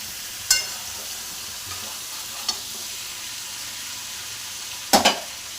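Grated ginger and slit green chilies fry in oil under a low, steady sizzle, with a few sharp clinks from utensil strokes, the strongest near the end. There is no voice.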